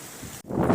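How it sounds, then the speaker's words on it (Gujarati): Heavy rain roaring with gusting wind, a brief drop-out midway before the downpour swells louder and fuller. "જોરદાર વરસાદ આવ્યો પણ વાવાઝોડા સાથે"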